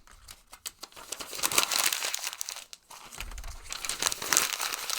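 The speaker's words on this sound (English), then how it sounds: "It is fun to crumple up paper into balls." Sheets of paper being crumpled by hand into balls, a close, busy crinkling and crackling that comes in bursts with brief pauses between them.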